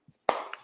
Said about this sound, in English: makes you do the choir clap